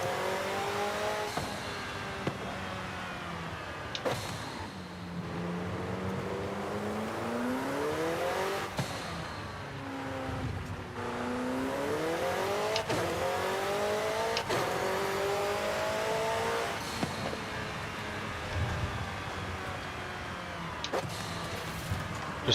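A McLaren 720S in Forza drives hard, its engine note climbing and falling through repeated gear changes and revs, loud and steady from start to finish with no voices.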